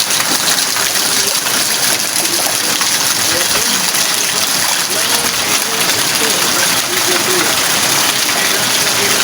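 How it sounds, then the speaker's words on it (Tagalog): Steady wind-driven rain in an outdoor yard near bamboo, a continuous broadband rushing wash with no pauses across the whole stretch, moderately loud and even throughout. "Pero hindi na masyadong malakas yung ulan mga kabigay."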